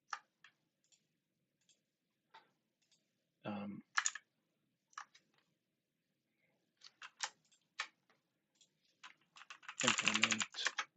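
Typing on a computer keyboard while working through a Python coding task: scattered soft key clicks in short bursts with pauses, ending in a denser flurry of keystrokes, with brief talk in between.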